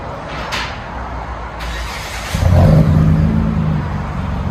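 A 2005 Mitsubishi Eclipse V6 with a Vibrant muffler and bottle resonators gives one throaty rev partway through, swelling from a low idle into a deeper exhaust drone that then eases off.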